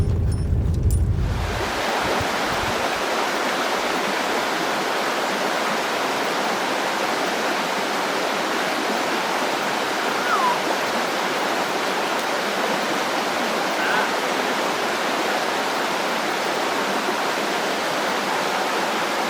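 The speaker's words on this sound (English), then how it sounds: "it looked like the current in the river really started to pick up" A fast-flowing backwoods trout river rushes past in a dense, steady roar of water, loud and close, after a brief louder low rumble at the very start.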